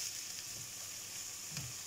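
Onions frying in a pan over low heat, a faint, soft, continuous sizzle with a few gentle stirring disturbances, heard alone.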